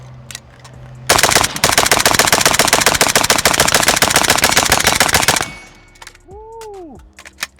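A Bulgarian Red Star BSR47 rifle fires a long, loud, rapid automatic burst of roughly four seconds in close, even cracks. The gun then falls quiet, with faint outdoor background and brief high tones afterward.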